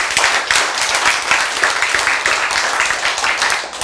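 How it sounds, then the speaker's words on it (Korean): An audience claps at a lecture, a dense patter of many hands that runs steadily and loudly throughout, with no voices over it. "박수 쳐야지."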